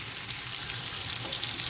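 Fish sautés with spices in its own released oil, giving a continuous dense sizzle and spatter at close range, steady throughout with no voices.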